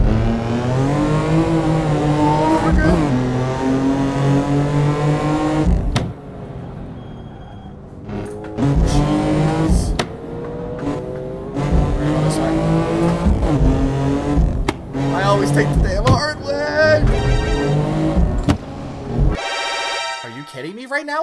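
Tuned 600hp BMW M4 convertible with a manual gearbox, revving loud in a driving game and climbing through gears with sharp cut-offs between pulls. Talk runs over it, and crackles come near the end.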